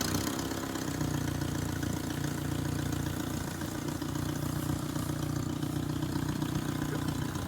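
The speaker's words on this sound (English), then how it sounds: "we're going to start the engine up. We'll get it nice and warm." The engine of a 1978 Datsun 1500 Ute (GN620) runs at a steady idle, a continuous low droning hum with an even rough pulse, close and alone.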